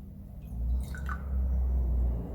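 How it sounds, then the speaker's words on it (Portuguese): Soft drink is poured into a laboratory beaker, giving a quiet trickle and a few drips over a low background hum, with no talking. "nós usaremos em um becker colocar 20 ml de refrigerante"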